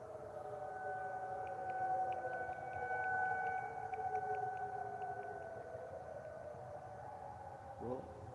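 Weather warning sirens under test, a long distant wail gliding up and down in pitch across the whole stretch, a faint higher tone and short chirps on top, with brief low murmurs beneath.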